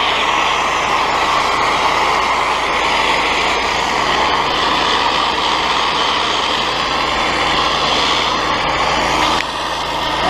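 A pressure washer running as its pressure is turned up with a ball valve: a loud, constant, close engine-and-pump drone that holds steady throughout and drops slightly just before the end.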